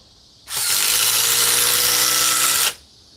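A battery-powered drill runs at full speed during a battery test, one steady high-pitched whirring burst of about two seconds that starts and stops abruptly, close and alone.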